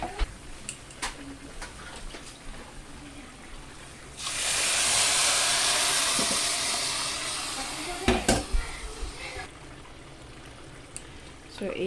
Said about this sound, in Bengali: আমি এতে জল দিব।